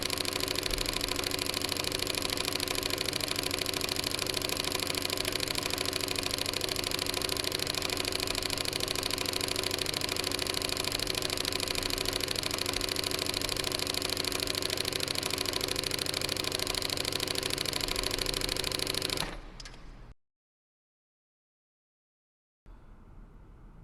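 A chainstitch embroidery machine with freshly replaced return springs runs steadily and loudly with a constant mechanical hum and rapid rhythmic clatter, then cuts off abruptly into silence before a faint restart.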